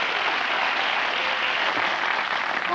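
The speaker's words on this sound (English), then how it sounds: "I can't believe they're clapping that." A studio audience clapping on a 1998 comedy game show, a dense, even roar of applause that stays loud and steady for a few seconds with no voices over it.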